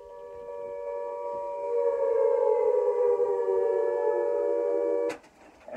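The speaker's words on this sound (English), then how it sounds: "you can hear some air raid sirens" An air raid siren wails in a recording, holding a loud steady rising tone for about five seconds before cutting off sharply into a brief noisy burst.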